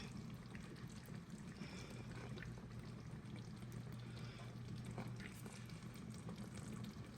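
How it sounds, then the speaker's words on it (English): Gravy poured from a pot onto a plate of rice beside smothered cube steak, a soft, steady liquid pour running continuously for several seconds close by, with no talking. "I'll go ahead and add some gravy to my rice"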